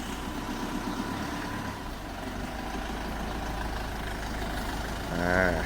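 A 2006 Mitsubishi Triton pickup is reversing, its engine giving a steady low rumble close by that swells briefly near the end.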